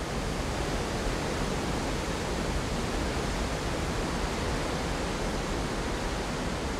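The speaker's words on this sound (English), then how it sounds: "Meltwater rushes down in cascades from the glaciers, forming pools and lakes within the sculpted landscape." Glacial meltwater pouring down in cascades across a volcanic landscape, a constant broad rushing roar that stays steady and moderately loud throughout, with no voices.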